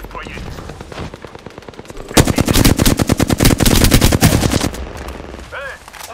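Automatic weapon fire in the video game Apex Legends bursts in a dense, rapid string of loud shots lasting a few seconds, with a voice speaking before and after.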